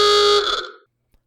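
A short, loud electronic siren tone sounds once as a paid product placement alert, holding steady for a moment and then cutting off into silence.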